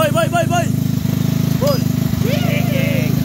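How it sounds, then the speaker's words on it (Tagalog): A restored Yamaha Mio Sporty scooter engine runs nearby with a steady, rapid putter like a small mower, while people talk and exclaim over it. "umandar na si Lucky Mio"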